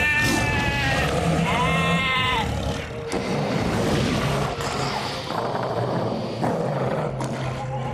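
Sheep bleating repeatedly in a dragon fairy tale at the Efteling theme park, wavering calls over a dense, rumbling backdrop of other noises, loud and near throughout.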